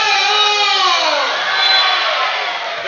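Spectators at an NF1 basketball match applaud and cheer, a loud, dense wash of crowd noise with a few shrill whistles rising through it.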